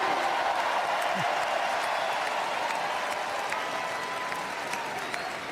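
A large crowd applauds during a speech announcing that federal workers must return to full-time in-person work, a dense, continuous wash of clapping and cheering that holds steady throughout.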